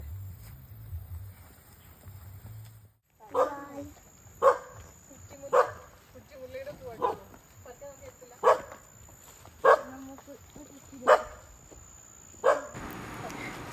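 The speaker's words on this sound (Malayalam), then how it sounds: "അവിടുത്തെ പട്ടി കുറയ്ക്കുന്ന സൗണ്ടാണ് ആ കേൾക്കണത്" A dog at a house barks out in a slow, regular series of about eight sharp barks, distant and echoing, after a brief low rumble at the start.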